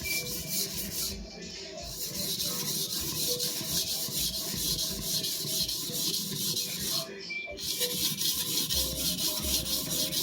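A sujihiki knife is worked across a 400 grit sharpening stone, making a steady, close, gritty scraping rasp that continues almost unbroken, with two brief pauses between strokes.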